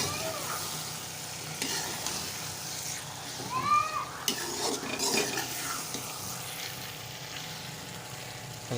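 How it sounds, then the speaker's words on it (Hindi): Fried okra being stirred with a spoon into hot sizzling masala in a pan, giving a steady crackling sizzle with scraping and clinking bursts of stirring mid-way, close and moderately loud. "चमचे के साथ मिक्स करेंगे।"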